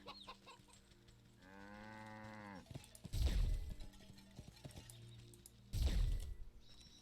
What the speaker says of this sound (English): Where's the cow?